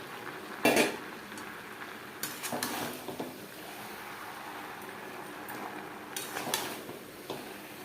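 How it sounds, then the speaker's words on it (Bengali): A spoon scrapes and stirs fried potato and jackfruit with spices in a pan, giving a few clattering strokes and soft sizzling between them, fairly close and moderately loud. "মশলার সাথে আলু এঁচড় ভালো করে মিক্স করে দেবো।"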